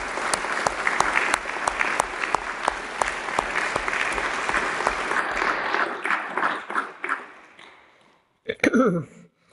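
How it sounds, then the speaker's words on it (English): Audience applause at a Kristallnacht commemoration event, a lively round of clapping from a gathered crowd with some louder individual claps, tapering off and falling silent before a voice begins speaking at the close. "I think we should applaud Daniel"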